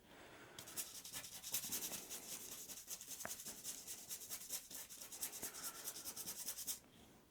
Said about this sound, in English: Just really scrub that paint in there, because this is all going to be gone over in the next stage.